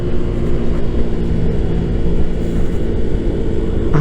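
A Yamaha NMAX scooter engine revs high during downshift engine braking, giving a loud, continuous, steady drone that holds evenly before a slight lift at the very end.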